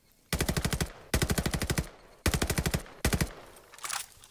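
Automatic gunfire in the Call of Duty: Vanguard campaign, four loud rapid bursts of machine-gun fire with brief gaps between them, ending in a fainter trailing sound.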